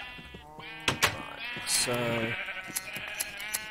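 Sheep in the Minecraft game bleating, several short wavering bleats in close succession, loud and near, with someone speaking briefly among them.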